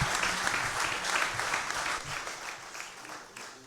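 An audience at an evening public talk applauds, a steady, full round of clapping from a room of people that gradually thins and softens toward the end.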